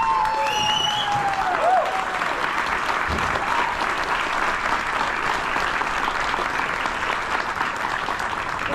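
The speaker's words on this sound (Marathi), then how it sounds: "एकदा जोरदार टाळ्या." A theatre audience at the 50th show of a Marathi play breaks into loud, sustained applause, with a dense clatter of clapping throughout and a few whistles early on.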